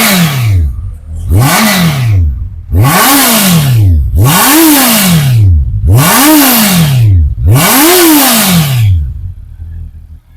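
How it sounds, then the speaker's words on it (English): A Honda CBR 650R motorcycle with a loud exhaust, engine warm, revs up sharply five or six times in a steady rhythm, each blip rising and falling back to a low idle between, close and loud with no talking. "This is how the exhaust sounds when the engine is warm"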